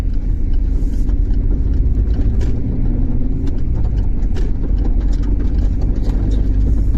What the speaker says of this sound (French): le bruit que t'entends, c'est la terre qu'il y avait sous les roues